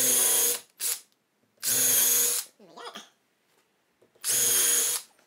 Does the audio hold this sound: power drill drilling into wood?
yes